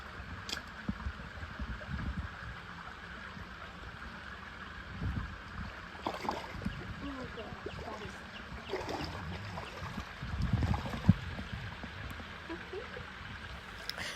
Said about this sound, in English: So I decided to make my way across the creek